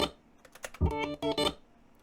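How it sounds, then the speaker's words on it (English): Short bursts of stuttering, glitchy electronic guitar tone with choppy, clicky repeats, loud and close. "It makes this weird computer glitch sound."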